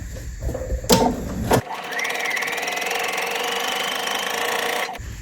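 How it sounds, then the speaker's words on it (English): Sewing machine stitching a seam on a doll skirt, a steady close mechanical whirr running for several seconds after a few handling clicks and knocks, then stopping abruptly. "And then I'm just going to swing it around and sew that same seam again."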